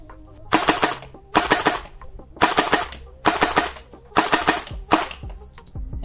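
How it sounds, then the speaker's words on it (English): A Nerf QWK Challenger MK3 electric blaster fires in six quick, evenly spaced bursts, each a tight cluster of sharp mechanical clacks and whirs between short pauses, loud and close with no talking. "Now we're going to try a 3-round burst."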